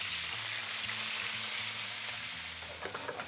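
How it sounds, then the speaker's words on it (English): Spinach and garlic hiss loudly in a frying pan, a dense continuous sizzle with soft rustling as the leaves are tossed, and no talking. "now that we got the spinach in there, what I'm going to do is I'm going to toss it a little bit to get that garlic off the bottom of the pan"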